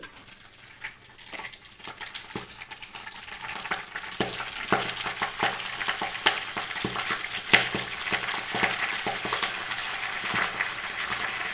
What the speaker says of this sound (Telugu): కొంచెం చిల్లుతుందండి ఆకు, కొంచెం జాగ్రత్తగా వేపుకోవాలి.